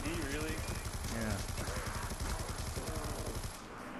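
An RPD light machine gun rattles off rapid bursts in Black Ops 2 Zombies on the Town map, with voices talking loudly over the steady gunfire until it cuts off near the end.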